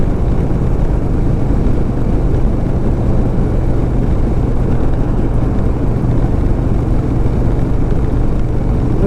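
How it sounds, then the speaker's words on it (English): A 2007 Harley Davidson Softail Deluxe cruising on the highway at about 80, its engine a constant loud low rumble blended with heavy wind rush, with no talking. "this bike is running like a dream now"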